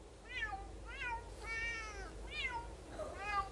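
A run of five synthetic-sounding cat meows from a human-to-cat translator app, evenly spaced and fairly clear over a low background hum.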